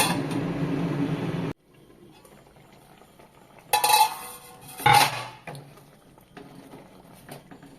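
A lid clatters onto a pan of boiling paneer gravy, with steady sizzling and bubbling at first, then quieter cooking under two sharp metallic lid clinks and soft rattling.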